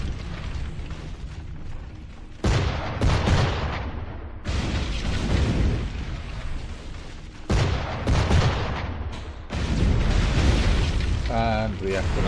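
Naval cannon fire between ships in Assassin's Creed IV Black Flag fleet battle, several heavy booming shots spaced a few seconds apart over a continuous rumbling backdrop.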